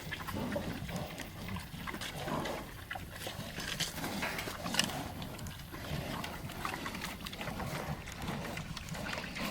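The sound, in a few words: pigs eating and grunting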